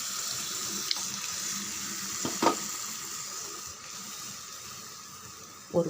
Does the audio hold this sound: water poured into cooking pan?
yes